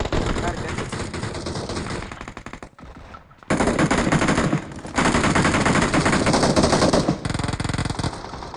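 Rapid automatic gunfire in PUBG Mobile, loud and dense bursts of machine-gun fire with a short lull near the middle before heavy shooting resumes, voices talking under the shots.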